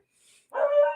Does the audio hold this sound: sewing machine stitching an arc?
no